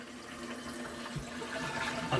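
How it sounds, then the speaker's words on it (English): A toilet under repair for a leak flushes close by, making a steady rushing, gurgling wash of water that builds slightly toward the end. "So if I flush it, that should stay up"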